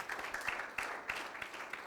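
A church congregation claps and applauds, a steady soft patter of many hands heard from a distance with no voices over it.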